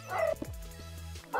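A dog in a video game gives a short bark and a whimpering yip, moderately close and fairly faint over quiet game background.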